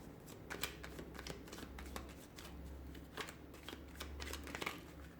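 Tarot cards are shuffled by hand in a series of soft, quick riffling and flicking bursts, close and faint, with no talking.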